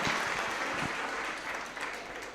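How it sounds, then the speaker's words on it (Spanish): A church congregation applauds together during a Spanish-language sermon, steady dense clapping that stays fairly loud and even before easing slightly toward the end. "Dale un aplauso a Jesucristo por eso"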